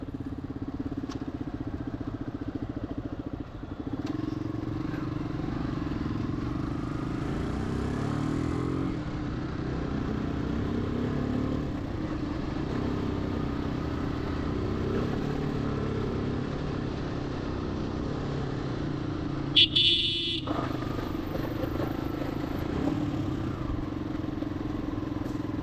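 A new motorcycle rides through traffic between Dharan and Itahari, its engine droning steadily and loudly throughout, with a brief clattering burst near the end.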